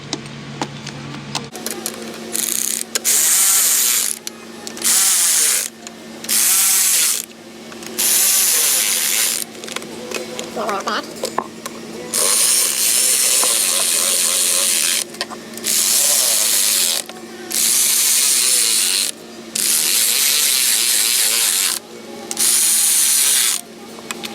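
A ratchet works an intake bolt on a Jeep Wrangler 3.6 Pentastar with a damaged plastic lower intake. Loud, close bursts of rapid clicking repeat about a dozen times in an even rhythm, with short pauses between strokes.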